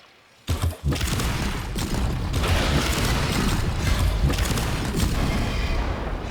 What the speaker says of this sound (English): Now let's go ahead and utilize Grenade Fan.